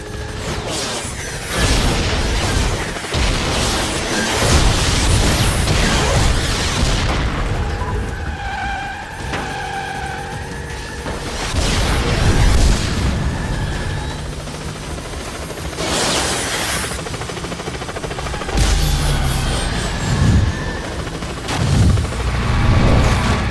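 Repeated booming rocket explosions from a helicopter attack in the racing video game Split Second: Velocity, heavy blasts and rapid bursts mixed with roaring engines and crashes, loud and dense across the whole stretch.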